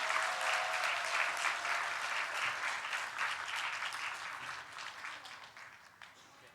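Congregation applause in a church service, a steady wash of clapping that fills the room at a constant level from start to finish, then eases off slightly toward the end, with no voices standing out.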